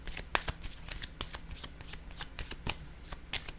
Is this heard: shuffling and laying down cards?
yes